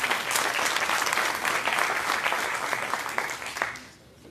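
An audience at a congressional event applauds a speaker, a broad steady clatter of many hands that fades out at the end.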